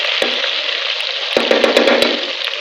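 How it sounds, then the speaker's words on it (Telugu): Green chillies and curry leaves hit very hot oil with a sudden loud crackle and steady sizzle, sharp pops and spits breaking through the dense hiss, alone with no talking. "పచ్చిమిరపకాయలు, కరివేపాకు కూడా వేసుకోవాలి. ఇది బాగా వేడెక్కింది ఆయిల్."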